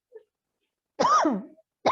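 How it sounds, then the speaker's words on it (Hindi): A single harsh cough bursts out close by, preceded by a faint small sound, with the start of another cough at the very end. "बिल्कुल खांसी।"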